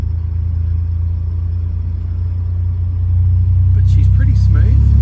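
A Holden VL Commodore's fuel-injected 3 litre engine runs smoothly at a steady low rumble, then swells slightly as if revving near the end, with faint voices under it.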